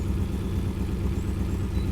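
A Triumph Stag engine idles cold at steady low revs, a continuous near rumble with a faint whir from the viscous-coupled fan, no voices.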